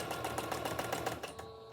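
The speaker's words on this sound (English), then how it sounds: "So let's just go ahead and sew it on." A sewing machine stitches lace ribbon onto socks, a fast, rhythmic mechanical chatter running steadily and fairly quietly for under two seconds.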